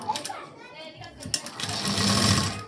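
A sewing machine stitches the puff sleeve of a blouse, running in a steady close whirring burst that builds after brief starts, while someone talks over it.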